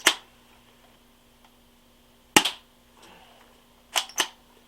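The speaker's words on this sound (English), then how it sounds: "So let me show you how the mock suppressor sounds." Neonfire MK23 airsoft spring pistol, a vintage springer fitted with a mock suppressor, firing: a sharp crack at the start, a second shot a few seconds later and a quick double pop near the end, close and alone.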